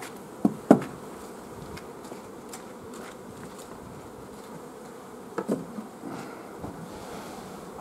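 Honeybees buzz steadily around a hive while boxes are moved aside, a continuous near drone with a few brief knocks and handling clatters.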